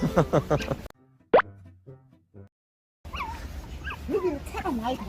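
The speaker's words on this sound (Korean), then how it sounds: "얘가 이렇게 원래 산책하면서 낑낑 소리를 많이 내나요?" A four-month-old Pomeranian puppy whimpers and yips on a walk in short, high-pitched bursts, with people talking before and after the cries.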